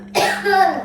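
A single sharp, close cough with a rough throat-clearing tail after tasting spicy, pungent kul makha, loud and brief.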